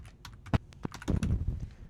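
Several crisp keystrokes on a computer keyboard, tapped in an uneven rhythm with a brief flurry toward the end, close and fairly quiet, while VLAN names are entered in a Packet Tracer network lab.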